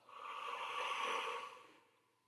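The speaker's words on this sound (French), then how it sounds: "prendre une grande inspiration pour vous dynamiser, puis soufflez fortement." A single strong, drawn-out exhale after a deep breath during a guided relaxation, close and breathy, swelling steadily then fading out over about two seconds.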